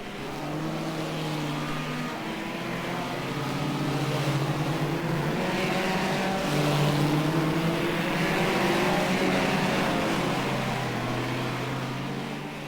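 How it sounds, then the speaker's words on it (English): Classic hot rod race cars lap a track at Northampton, engines droning loud and continuous with rising and falling pitch as they pass, a dense roar of several cars with no talk. "we'll just give you a lap or so to listen to the pure noise of these classic hot rods"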